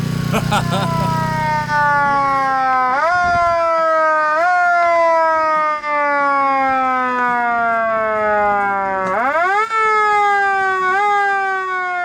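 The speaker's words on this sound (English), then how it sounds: "That came off of the 1956 Ford police car in Grand Prairie, Texas. It's an old federal antique" An old Federal mechanical siren taken from a 1956 Ford police car wails loud and close, rising and falling in long sweeping pitch glides with a few sharp restarts, running continuously on its own.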